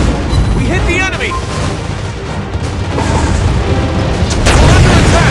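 Shell hits and explosions on an enemy warship in World of Warships Blitz, a dense stretch of booming impacts and blasts over constant loud game noise, with a sharp burst near the end.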